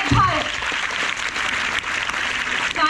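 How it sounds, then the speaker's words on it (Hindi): An audience at a Hindi poetry gathering keeps up steady applause, with a voice speaking over the clapping. "तालियां और भी जोर से होनी चाहिए।"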